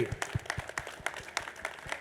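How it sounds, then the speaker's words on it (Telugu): Scattered hand claps ring out over a few seconds at a gathering in Kurnool, uneven and fairly light, with a faint murmur of voices behind them. "సాహసవంతులందరికీ పునాదులు వేసిన గ్రాండ్ మాస్టర్స్ అందరికీ గట్టిగా క్లాప్స్ కొడదాం"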